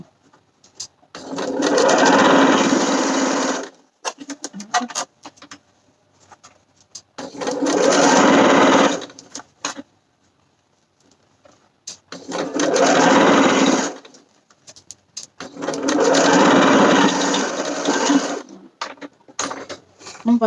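A sewing machine stitches a hem on a blouse, running in four steady whirring bursts of a few seconds each, separated by pauses filled with quiet handling noises and a little talk.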